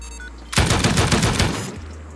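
An M249 machine gun in the game Rust fires a sustained automatic burst of rapid, evenly spaced shots lasting just over a second, loud and close, starting and stopping abruptly against a low background hum.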